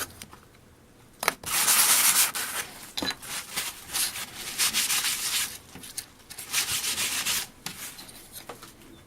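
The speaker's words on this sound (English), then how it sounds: "Next you have to sand off the photoresist" Hand sanding photoresist off a small homemade acid-etched circuit board: bursts of dry, raspy abrasive rubbing in several strokes and pauses, close and fairly loud with no talking.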